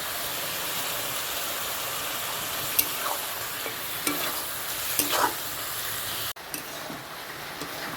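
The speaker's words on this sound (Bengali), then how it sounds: "মশলাটা ভালো করে কষানো হয়ে গেছে" Ginger-garlic paste with salt, turmeric, chili and cumin paste frying in a pan, a soft, steady sizzle with a few faint stirring scrapes, cutting briefly near the end before resuming.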